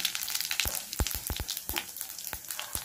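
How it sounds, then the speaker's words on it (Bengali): Cumin seeds hit hot oil for a tempering, giving a near, bright sizzle punctuated by a quick run of sharp pops and crackles over a few seconds. "প্রথমে জিরে দিলাম ফোড়নে"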